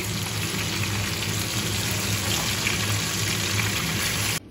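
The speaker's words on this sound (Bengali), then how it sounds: "তো এখানে আমি আলুগুলোকে ভেজে নিচ্ছি" Potatoes fry in hot oil with a dense, even hiss that holds steady and close for several seconds, then cuts off abruptly at the end.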